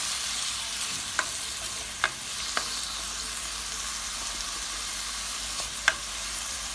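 Food fries in a pan for French fried chicken and spaghetti with saltfish, a steady hiss of sizzling with a few sharp clicks of a utensil stirring against the pan, no talking.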